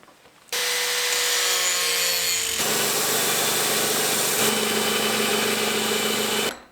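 A power grinder shapes tangs on steel blanks for woodturning chisels, a loud continuous close whine with shifting pitch as the metal is pressed to the wheel, running for about six seconds before stopping.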